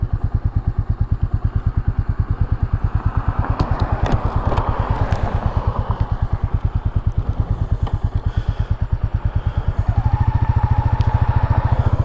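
A Royal Enfield Meteor 350 single-cylinder 348 cc motorcycle engine under way, a loud, close, steady thumping pulse that holds an even beat and grows slightly heavier near the end, with no talk over it.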